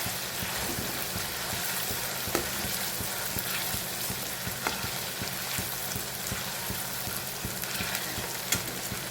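Chopped onions sizzle and fry steadily in oil in a pan for pav bhaji, a dense continuous crackle with light stirring scrapes throughout, close and alone without talk.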